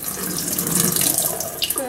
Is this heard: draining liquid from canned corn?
yes